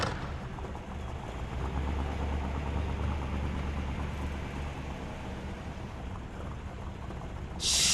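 A green Sabre muscle car idles in GTA San Andreas, a steady low engine rumble holding at even loudness throughout with a brief louder burst near the end.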